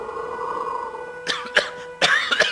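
Someone coughs several times in short, harsh bursts close to the listener, first a pair of coughs and then a longer cluster, after a quieter stretch of steady background tone.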